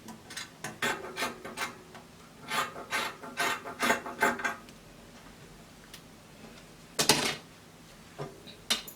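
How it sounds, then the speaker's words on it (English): Scissors snip through fabric while a one-shoulder kaftan dress is cut out near the armhole, giving a run of close, quick rasping cuts, a pause, then a few more brief snips in a quiet room. "just cut 1 inch from the armhole here"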